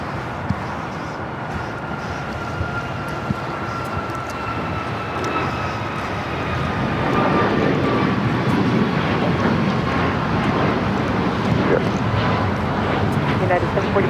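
Airplane landing on runway 25 left at LAX, a steady jet engine roar that grows louder midway and holds, with a faint whining tone and radio chatter in the background.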